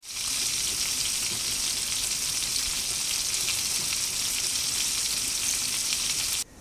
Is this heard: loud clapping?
no